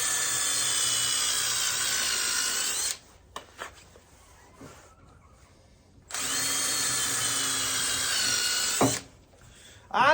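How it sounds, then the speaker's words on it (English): Power drill boring pilot holes into wood, running in two sustained bursts of about three seconds each, separated by a quieter gap of knocks and handling noise, close and fairly loud. "Pre-drill some holes in this."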